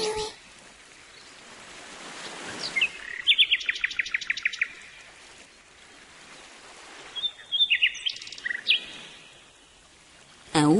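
Nightingale song in a forest near the coast, heard as two bright bursts of rapid repeated chirps and trills over a soft, rushing stream-like background, with quiet gaps between phrases.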